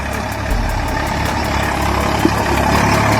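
A heavy Eicher truck engine idles nearby with a loud, steady low rumble and a faint ticking pulse running through it, with no voices.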